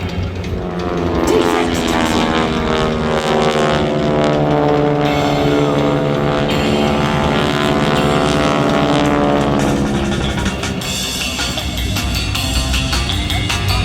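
A jet roars low and fast past the crowd at the Wings Over Wayne Seymour Johnson airshow, a loud sustained rumble with a sweeping pitch change as it passes, close and steady throughout.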